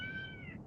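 A single brief meow from a cat, rising then trailing off, heard close over a low room hum with no talking.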